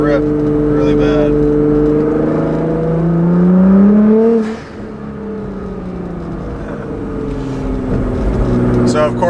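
Up close, a tuned 2015 Nissan GT-R on a Meisterschaft exhaust with GFB blow-off valves pulls hard, its engine tone rising in pitch. It then drops off sharply at the shift and settles into a lower, steady drone, with talk underneath.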